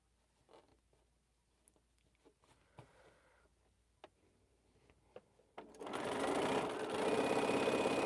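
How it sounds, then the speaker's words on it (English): A sewing machine stitches green strips onto a quilt, starting after a few light taps and handling clicks, then running as a loud, steady, close whirring drone until the end. "We're going to start sewing these green strips on now."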